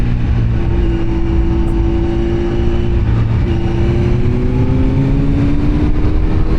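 Sport naked motorcycle engine heard from the rider's position, a loud continuous drone that drops through a downshift and then climbs in pitch as it accelerates, with wind rush underneath.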